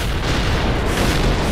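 Sustained booming blast from an explosion in a Minecraft game, loud and rumbling with broadband noise for the whole stretch, no voices over it.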